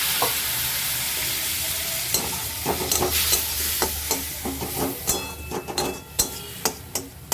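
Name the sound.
stirring potato, pointed gourd and pumpkin curry with cumin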